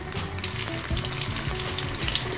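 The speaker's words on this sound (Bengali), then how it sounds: "এরপর গরম তেলে সমুচগুলোকে ভেজে নিচ্ছি" Chicken samosas deep-frying in hot oil, a steady dense sizzle with bubbling crackle that holds evenly throughout, close and unbroken.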